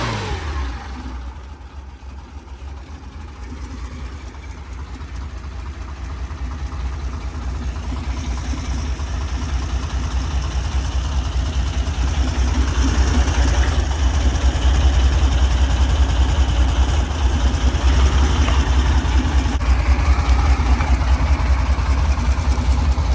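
Car motor idling steadily up close, a continuous low rumble that swells gradually louder over about twenty seconds, with no talking over it.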